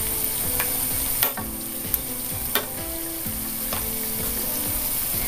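Kerala-style crispy tapioca fritters frying in hot oil, a steady close sizzle and crackle running throughout, with a few sharp clicks and taps from a utensil turning them over.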